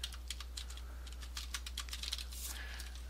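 Typing on a computer keyboard into a Notepad++ editor, a quick run of light, close key clicks at an uneven pace with a low steady hum beneath, no talking.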